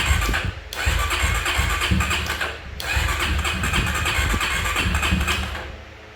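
A Honda XR250 motorcycle engine, battery on charge, cranks and catches, running loud and rough with a brief dip before revving again steadily at close range.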